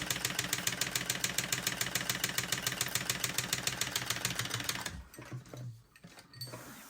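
A sewing machine bastes a pocket seam in a rapid, even run of stitches for about five seconds, then stops, leaving quiet handling of fabric, with no talk.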